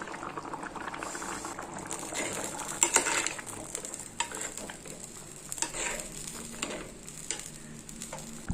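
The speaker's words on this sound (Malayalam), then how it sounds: "നന്നായിട്ട് തിളയ്ക്കുന്നുണ്ട് ഒന്ന് ഇളക്കി കൊടുക്കാം" Fish curry bubbling steadily in a pot, a continuous close simmering hiss with wet popping, joined by a few brief clinks and scrapes as it is stirred; no one speaks.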